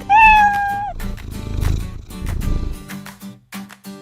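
A single drawn-out meow rings out clearly, then gives way to rustling and faint clicking sounds.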